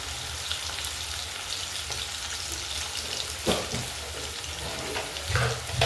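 Potatoes fry in a pan with a sprinkle of salt, giving a steady, close hiss of sizzling oil with a few sharper crackles and stirring scrapes near the end.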